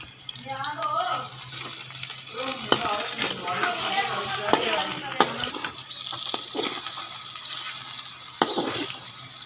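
Potatoes fry in a pan in a home kitchen, a steady close sizzle with occasional stirring clatter, while a voice talks over it.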